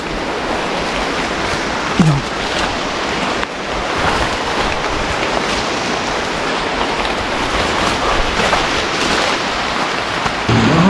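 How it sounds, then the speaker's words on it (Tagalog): A river near Sangab Falls rushes in a continuous broadband roar, steady and fairly loud throughout, with faint rustling and a few brief bumps nearby. "ilog na yun, naririnig ko."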